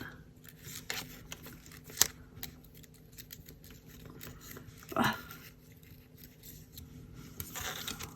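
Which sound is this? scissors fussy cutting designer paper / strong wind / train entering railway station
scissors fussy cutting designer paper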